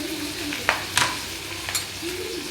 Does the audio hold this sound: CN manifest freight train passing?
no